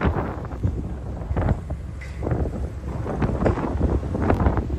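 Strong gusting wind from Cyclone Kong-Rey on the Yellow Sea, heard aboard a ship, buffets the microphone in a constant roar, with rushing, choppy bursts of open water and no voices.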